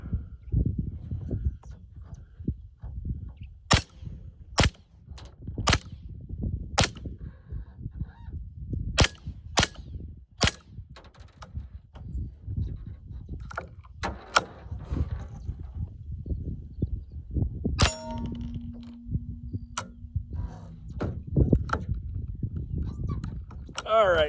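.22 pistol shots against steel targets at an outdoor range, a dozen or so sharp cracks spaced irregularly over background noise, with people talking between shots.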